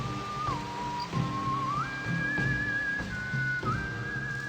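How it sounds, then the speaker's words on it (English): A melodic whistled tune from a video game's western-style soundtrack glides between sustained notes over soft background music with twangy guitars, with no voices. "with a lot of whistling, twangy guitars, and weird vocalization"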